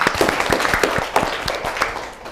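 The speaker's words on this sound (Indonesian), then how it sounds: "tepuk tangan dong" A classroom of vocational high school students applauds together, with quick, uneven hand claps close by and steady for a couple of seconds.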